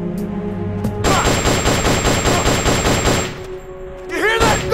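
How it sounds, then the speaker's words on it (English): Rapid automatic gunfire from the Metal Gear Solid Peace Walker video game, a dense continuous burst lasting a few seconds at close range, with brief game effects before and after. "Being shot at!"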